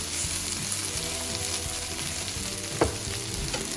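Okra, garlic and onion sautéing in a pan for a Sri Lankan style okra curry, a continuous close sizzle with scraping stirs and a brief clatter of the spoon.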